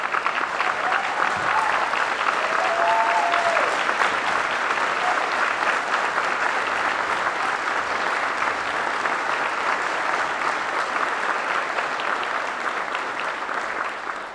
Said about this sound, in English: I ask you to give her a big round of applause.